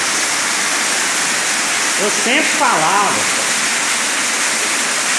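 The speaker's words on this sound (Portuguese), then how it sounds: "Agora vamos ver a cachoeira dentro da caverna." Waterfall roaring inside a cave, a steady broadband rush of falling water filling the space, with a voice speaking briefly over it midway.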